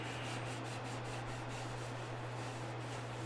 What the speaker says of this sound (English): run sandpaper across a natural edge bowl